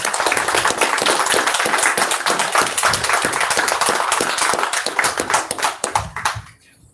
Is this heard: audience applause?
yes